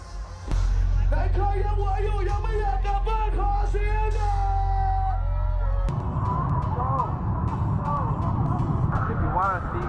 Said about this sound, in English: If you want to see what crowds look like, this is what crowds look like.